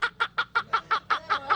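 A chicken gives a rapid, evenly spaced run of about nine clucks, loud and close, with a steady rhythm and nothing else competing.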